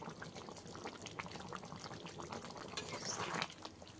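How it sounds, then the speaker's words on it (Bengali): Fish roe fritter curry simmers in a pan, giving a steady close bubbling and gentle liquid burble that swells slightly near the end, with no talking. "ডিমের বড়াগুলো দিয়ে অল্প কিছু সময় আমি ফুটিয়ে নেব"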